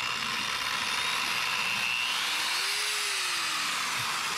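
DualTools PS7000 counter-rotating dual-disc polisher sander running steadily, a continuous airy high whir with a faint tone that rises and falls once, moderately quiet and alone.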